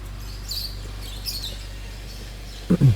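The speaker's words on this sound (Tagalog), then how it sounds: "Meron yung mga ibon, meron yung mga geese." Birds calling at a nature campsite, with a few short high chirps rising above a steady low hum, followed by a louder brief clatter at the end.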